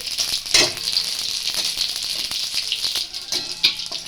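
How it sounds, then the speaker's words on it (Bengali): Radhuni spice tempering sizzles hard in hot oil with green chili, a steady close-up hiss broken by sharp crackling pops as the seeds hit the pan, with faint stirring rattles. "তারপরে আমি রাঁধুনি ফোড়ন দিচ্ছি এটা এটা রাঁধুনি ফোড়ন"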